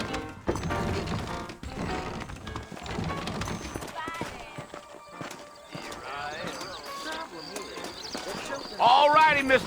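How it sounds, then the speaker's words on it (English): Video game horse hooves clip-clop steadily on hard ground with occasional snorts and a whinny near the end, while voices talk throughout, from Red Dead Redemption. "I got the horses saddled up and ready out front."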